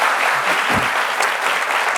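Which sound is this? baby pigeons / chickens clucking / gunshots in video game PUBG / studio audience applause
studio audience applause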